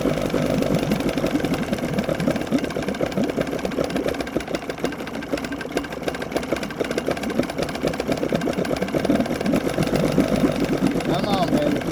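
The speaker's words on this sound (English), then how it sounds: "That is full throttle, and she's about to die." A small outboard boat motor runs flat out at full throttle, producing a steady, loud buzzing drone with a fast, even pulse that holds throughout, close to the listener.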